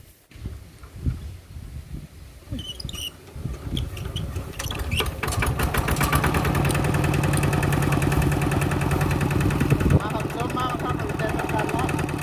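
A motorcycle loaded with a sack of rice starts running, its engine chugging unevenly at first, then settling into a steady, close, rattling idle while people talk over it.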